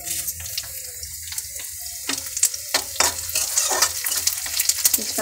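Bay leaf and cumin seeds sizzling in hot oil, a close crackling hiss with sharp pops and clattering stirs that grows busier toward the end.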